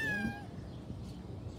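A large male cat lets out a single short meow at the start, fairly faint against a steady indoor background hum that continues after it.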